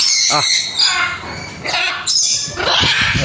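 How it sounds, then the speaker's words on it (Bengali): Loud, harsh squawks from a red macaw, several raspy calls in quick succession, close by. "তো আমি এখন মেকাও পাখিকে খাবার দেবো। তো মেকাও পাখি দেখো চলে আসবে।"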